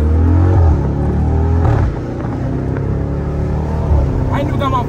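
An SRT Jeep engine revs and pulls hard under acceleration, a loud close rumble that drops pitch near the middle as it shifts and keeps droning with speech over it.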